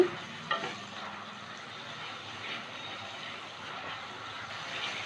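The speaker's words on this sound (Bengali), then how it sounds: "আদা রসুনটা একটু ভেজে নেব।" Ginger and garlic paste, ten garlic cloves and half an inch of ginger, fries in a pan for chicken dopyaza, giving a steady, soft sizzle with a few brief scrapes of stirring.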